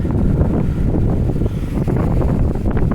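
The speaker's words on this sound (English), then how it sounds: "The wind is blowing, cleaning all the leaves off today." Gusty outdoor wind buffets the microphone while walking, a continuous rumbling roar with uneven swells and no voices.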